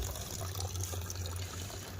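Water runs steadily from a tap outdoors in a village courtyard, a continuous close-up pouring wash with a low hum underneath, no talking.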